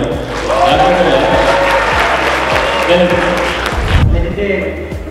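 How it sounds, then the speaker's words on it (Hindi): A crowd at a youth club event claps and cheers loudly and continuously, with a thumping beat underneath, then the clapping drops off abruptly near the end. "तालियां बजा दो भाई"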